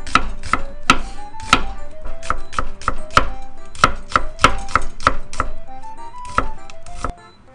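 A knife chops imitation crab sticks into thin strips on a cutting board, a quick run of sharp, close, evenly spaced thuds in a steady rhythm with no talk.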